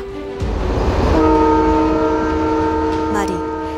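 Train horn from a train bound for France, a sustained multi-tone blare rising over rolling rail noise and lasting most of the moment, fairly loud, with a brief higher whistle-like sweep near the end.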